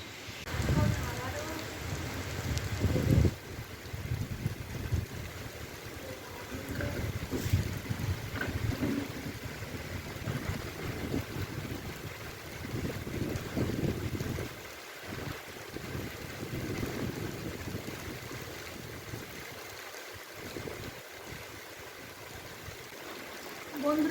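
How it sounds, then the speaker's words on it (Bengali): Heavy rain pours on a rooftop in a steady broadband hiss, continuous and close, with a voice speaking intermittently over it. "প্রচুর বৃষ্টি হচ্ছে অনেকটাই এখন"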